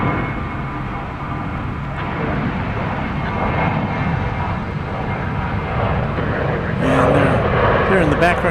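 Steady, loud jet engine roar from a 31-year-old airliner at DFW Airport at night, holding continuously throughout and swelling slightly toward the end.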